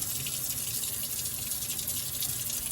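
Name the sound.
rinsing juicer part under running tap water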